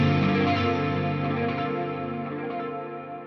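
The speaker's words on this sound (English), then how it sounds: "And then after that, I have some tube screamer hitting the front of the amp." Electric guitar through a Tube Screamer overdrive into a half-note delay on a Line 6 Helix, with an Octave Clean amp model: one driven, sustained chord rings out alone and slowly fades.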